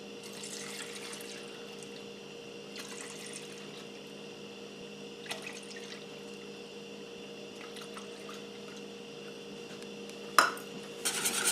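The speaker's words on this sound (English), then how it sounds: "Now into this I will add 4 cups of milk." Four cups of milk are poured into a bowl of rice pudding mix, making a steady, soft trickling stream with a few light clinks and a sharper knock near the end.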